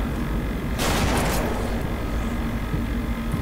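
A shotgun blast in the zombie game Deadlight, one loud, broad burst that fades over about half a second, set against a steady background hum with no talk.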